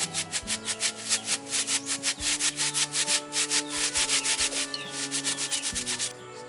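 Fine sand is rubbed over a shakuhachi flute in quick, regular back-and-forth strokes, giving a close, steady rhythmic scratching.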